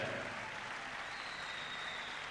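An ice-rink crowd applauds a player who scored an incredible shot, a steady wash of distant clapping at an even, moderate level with no talk over it.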